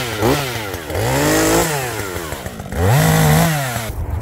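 A chainsaw clears brush and small trees, its engine loud and close, rising and falling in pitch as it revs and bogs through cuts, with no talking.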